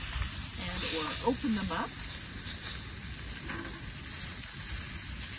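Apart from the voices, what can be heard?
pork chops searing in a pot over a campfire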